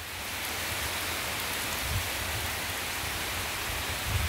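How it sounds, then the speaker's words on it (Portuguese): Heavy rain pouring down in the northeast of Brazil in November, a dense, steady, loud hiss with occasional low thumps, continuing unbroken throughout. "Pleno mês de novembro, uma chuva dessa maravilhosa."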